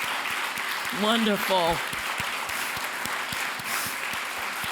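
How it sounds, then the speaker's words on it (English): An audience at a national policy convening applauds steadily, sustained clapping filling the room while a voice briefly speaks over it near the start. "Let's give them a big round of applause."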